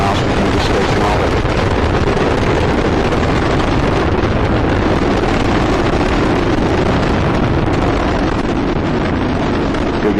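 Space Shuttle Discovery's engines roaring during launch ascent from Complex 39B at Kennedy Space Center, a dense, continuous, loud rumbling roar with wind-like buffeting and no let-up.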